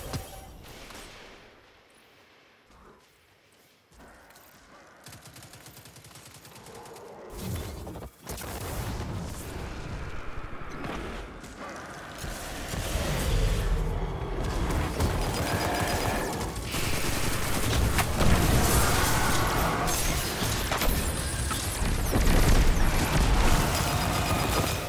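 A powerful weapon fired in Destiny 2, the video game, starting sparse and building into dense, heavy volleys of shots and booms that grow louder and more continuous over the length of the passage.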